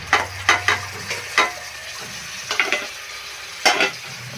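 Tomatoes frying with golden-browned onions in a pan, stirred in several quick scraping bursts over a steady low sizzle, close and fairly loud, with short pauses between strokes.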